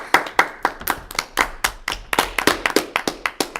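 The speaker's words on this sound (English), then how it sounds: "We're just like really peaking in levels with each clap." A few people clap close to the mic in sharp, loud, uneven bursts, roughly a dozen claps in quick irregular rhythm.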